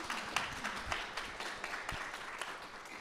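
An audience claps for a few seconds at a library-sponsored author interview, a faint, scattered patter of hands with a quiet voice underneath.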